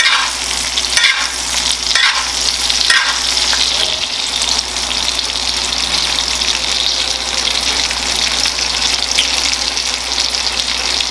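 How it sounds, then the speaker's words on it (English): A NY strip steak sizzles in butter in a cast iron pan, with a steady loud frying hiss and intermittent spoon scrapes from basting throughout. "Just keep on basting it while it's cooking."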